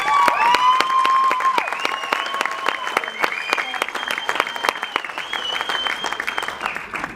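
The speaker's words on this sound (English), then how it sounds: "So one more round of applause for Michelle." A room at a 2018 Softball BC awards banquet in Kamloops applauds coach Michelle, crisp clapping from the crowd heard close with cheers and whoops, mixed with voices throughout.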